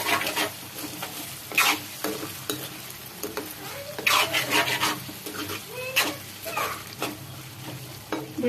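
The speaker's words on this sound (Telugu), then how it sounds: "ఒకసారి కలబెట్టుకొని స్టవ్ ఆఫ్ చేసుకుందాం" Cooked ridge gourd for a chutney is stirred in a pan, with repeated rasping scrapes of the spoon against the pan over a soft sizzle and a few clinks, close and with no voices.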